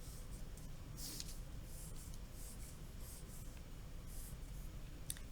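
Soft pen or marker strokes on paper while drawing ten-frame grids for a math lesson, faint repeated scratchy marks in short bursts over quiet room noise, no talking.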